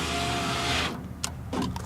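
A 2002 Nissan Maxima power window runs on its newly replaced regulator, giving a steady whirring motor drone that stops suddenly, followed by two brief mechanical clunks close by, with no talking.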